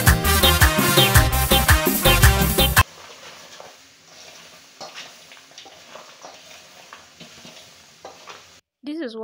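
Gabgab incense mixture being fried in a pan and stirred, a busy sizzle with scraping strokes, preceded by a few seconds of loud music.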